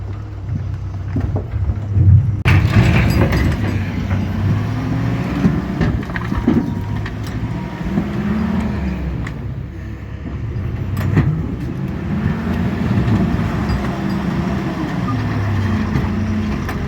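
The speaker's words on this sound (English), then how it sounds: "that's a double axle dump truck" A double axle dump truck rolls past outdoors in winter, its engine rumble swelling and fading over several seconds with heavy low-end drone, no voices over it.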